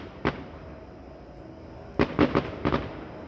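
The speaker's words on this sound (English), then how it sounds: "Can you hear the fireworks?" Distant fireworks go off outdoors, one single bang followed after a pause by a quick cluster of four or five sharp booms, faint against steady background hum with no talking.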